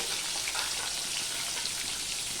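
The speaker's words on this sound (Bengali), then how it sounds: "সেই 3 পিস মাছের মাথায় আমি ভেজে নেব।" Katla and rohu fish heads frying in hot oil, a steady, dense crackling sizzle close up, continuous and alone with no voices.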